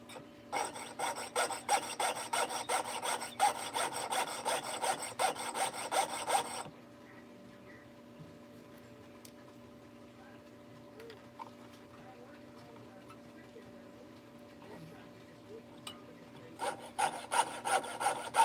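A jeweler's saw blade pinned against a bench pin cutting a fish tail shape from a metal spoon, rapid rhythmic rasping strokes up close, stopping for a long quiet pause before resuming near the end.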